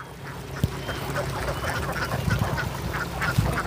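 Laying ducks quack in a rice field in the Mekong Delta countryside, a dense, continuous flock chatter with a few sharper calls standing out close by, and no talking.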